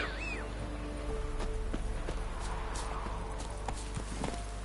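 Roach, the horse in The Witcher 3, gallops with rhythmic clip-clop hoofbeats over a steady low background rumble, fairly close and continuous, with no talking.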